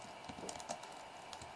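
Quick, soft clicking of computer keyboard keys being typed while programming, a close, continuous patter of keystrokes with no voices.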